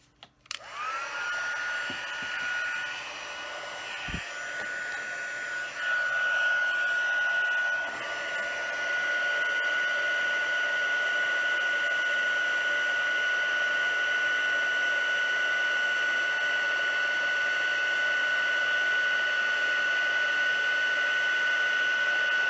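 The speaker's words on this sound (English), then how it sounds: "we just need to put the heat tool on this" A heat embossing tool blows hot air over a foil birthday card: a click, then a loud, steady blower whir that holds unbroken for about twenty seconds, with no voices.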